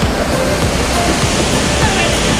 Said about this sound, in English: So this is it, this is the waterfall, guys.